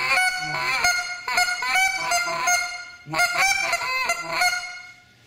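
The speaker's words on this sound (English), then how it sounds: "Now you can do the clean sound with the real guttural sound," A goose call worked with one hand mixes clean and guttural honks in a loud, fast, continuous run of rising, breaking notes, with brief gaps and no voices.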